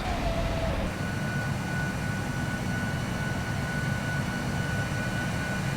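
Steady cockpit drone of a Boeing 747-8 in the PMDG flight simulator, a constant broadband engine and air hum with a faint high tone running throughout.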